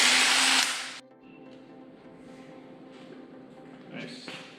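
A high-powered impact wrench rattles loudly on an engine crank for about a second, then cuts off, leaving quiet background hum with faint later clatter.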